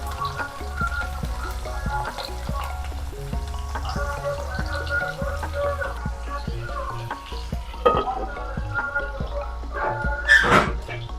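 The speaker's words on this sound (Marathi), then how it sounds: "ह्याच्यात मावतात तेवढेच तळून घ्या" Ivy gourd (tondli) frying in hot oil in a covered pan, with a steady sizzle and bursts of stirring clatter throughout, louder near the end.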